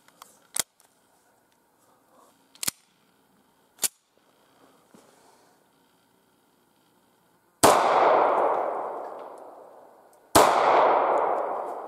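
Shots from a brand new handgun fired outdoors, a few sharp isolated metallic cracks spaced seconds apart, then two much louder booming reports with long ringing decays.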